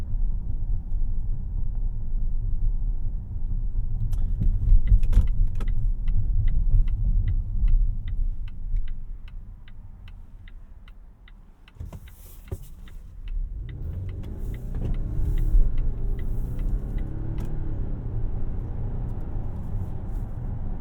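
A 2024 Volvo XC90 T8 hybrid SUV driving, heard from inside as a steady low road and engine rumble with a regular ticking like a turn signal, easing quieter midway and then picking back up, without talk.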